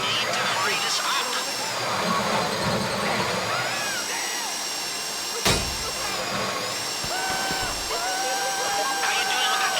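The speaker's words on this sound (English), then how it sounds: "How you doing with that drill?" A safe drill whines steadily during the Fleeca Job heist in GTA Online, a loud continuous mechanical drone with shifting pitch and a sharp knock midway, while a voice speaks over it.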